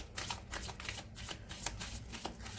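Lenormand tarot cards being shuffled by hand, a quiet, close, continuous riffling and flicking with regular soft slaps of the cards.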